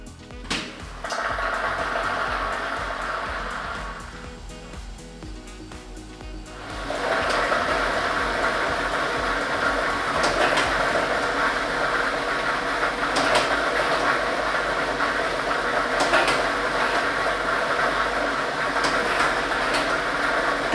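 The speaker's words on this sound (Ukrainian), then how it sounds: "Тиражна комісія до початку гри довільно обрала лототрон А комплект кульок номер 1 І ми вмикаємо лототрон." A lottery draw machine with a set of numbered balls runs steadily, giving a continuous whirring rumble with a brief dip early on before settling into a louder, even churn. It sounds close with no voices.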